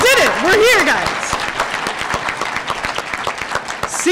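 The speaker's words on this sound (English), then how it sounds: "round of applause to us, graduating class of 2022" The graduating class of 2022 gets a burst of loud applause at a school graduation, with dense clapping mixed with cheers and shouting voices at the start that settles into steady clapping.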